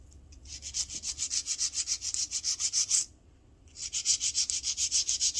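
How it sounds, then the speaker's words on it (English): A nail file works across acrylic nails in fast, even back-and-forth strokes, a close rhythmic rasping that pauses briefly before resuming at the same steady pace. "As you can see, I'm filing on each side."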